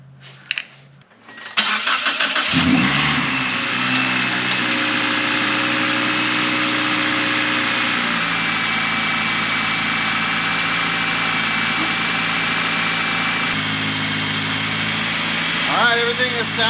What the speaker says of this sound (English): Alright, everything is sounding good.